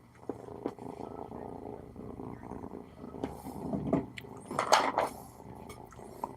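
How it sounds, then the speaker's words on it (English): A pet cat purrs softly and steadily at close range with a low, continuous rumble, interrupted by a few clicks and rustling bumps as she moves around. "You hear the cat?"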